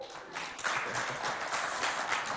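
Applause from a crowd at a school talent show, a broad, steady wash of clapping heard from a distance, moderately faint and continuous throughout.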